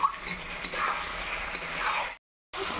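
Shankar (stingray) fish pieces with potatoes and spices being stir-fried in a pan, a steady close scraping and sizzling for about two seconds, then a brief silence before the stirring resumes.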